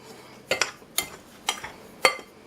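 Sugar, baking soda and salt being mixed in a bowl, heard as five quick scraping clinks of a utensil against the bowl at an even rhythm, close and fairly quiet, with no talking.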